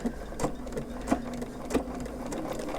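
Sewing machine stitching curved quilt pieces with edges lined up under the presser foot, a steady close motor whir with a rhythmic stitching pulse and periodic louder thumps.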